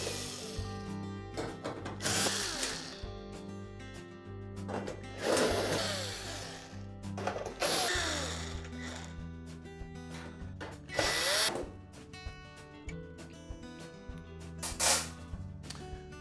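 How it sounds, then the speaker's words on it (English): A power drill backing screws out of the upper panel on a GE range oven: repeated short bursts of whining motor and grinding, separated by pauses, fairly close and clear with no talking. "there's typically about 8 screws that secure it to the frame of the oven. So we'll just go ahead and remove those."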